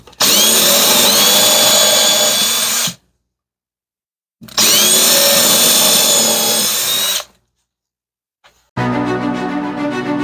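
A power drill bores small pilot holes for eye hooks, running in three loud bursts of about three seconds each, separated by silent pauses, the last burst lower and buzzier.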